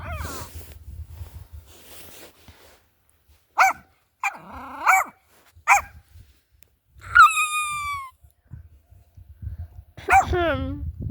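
A dog gives several separate barks and a drawn-out yelping whine, close and loud, with quiet gaps between them and low background rumble.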